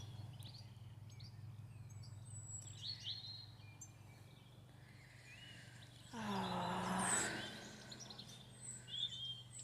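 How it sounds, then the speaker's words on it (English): Birds chirp and sing in scattered bursts outdoors at Felley Priory Gardens in spring over a steady low hum, with a louder rush of sound partway through. "Oh, listen to the birds. Can you hear the birds singing?"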